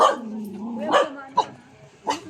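A dog gives a few sharp barks and yips, spaced apart, with a faint whining tone between them at moderate distance.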